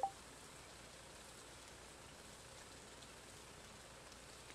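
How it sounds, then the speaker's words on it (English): Steady rain falls in the video game Stardew Valley, a soft, even hiss of patter that holds unbroken throughout with no voices over it. "Oh, raining."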